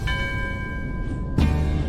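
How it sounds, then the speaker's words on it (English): An underwater bell at a submerged Shinto shrine is struck by a diver to call fish, ringing with a sustained metallic tone through ambient water noise before a second, louder strike near the end. "He calls the fish by hitting the underwater bell."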